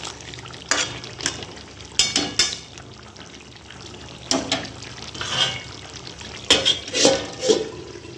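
Kashi mangsho, a Bengali mutton curry, is stirred in a pot on the stove: intermittent scraping clatters of a spoon against the pot come in short bursts over a low, steady sizzle, with no talk.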